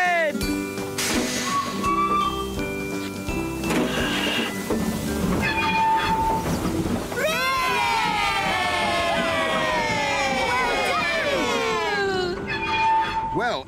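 A steam train departing in a children's animated show, with whistle tones, rolling rail clatter and a loud rising hiss of steam and chuffing in the latter half, mixed with voices and music.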